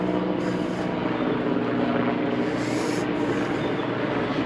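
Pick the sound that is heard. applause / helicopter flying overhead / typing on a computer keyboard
helicopter flying overhead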